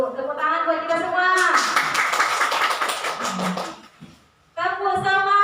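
Applause and clapping from a group of teachers at a positive-culture school workshop, a dense burst of claps rising from speech for about three seconds, then fading before talk resumes.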